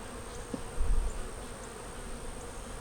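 Honey bees hum around an open hive in South Carolina, a soft, steady buzz with a faint low thump partway through and no voices.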